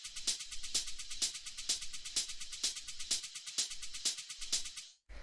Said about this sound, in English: the last thing that we have here is the hi-hats, which altogether sound like this